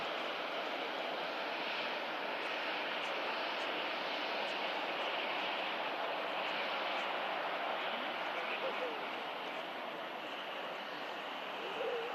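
Jet2 Boeing 757 jet departing in snow at Manchester Airport, a steady broad engine roar at a distance, even and continuous throughout without clear peaks.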